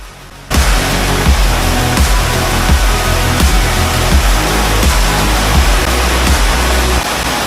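A monsoon waterfall cascading down rock steps in the Western Ghats of Maharashtra roars as a loud, steady rush of falling water, starting abruptly and continuing without pause, with no voices heard.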